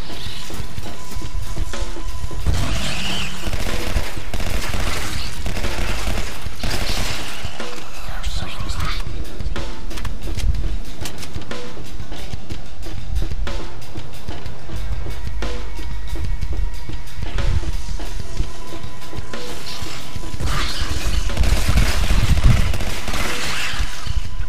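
Shotgun gunfire in a video game where werewolves are fought, loud repeated blasts mixed with other gunfire and game effects in a dense, busy soundscape.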